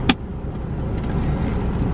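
A Lamborghini sports car drives with a steady low engine hum and road rumble from inside the cabin, a short click at the start, no talk.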